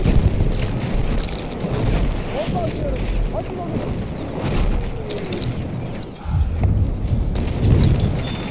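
A bomb explodes in the video game Battlefield 1 amid continuous rumbling battle noise and wind-like roar, with a heavier low boom swelling near the end while a voice talks over it.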